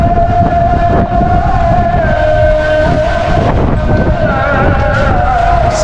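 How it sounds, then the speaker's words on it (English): Constant low wind buffeting the microphone outdoors in rainy Istanbul near the Bosphorus, with a steady tonal hum like a distant siren running underneath throughout. "it's windy as well"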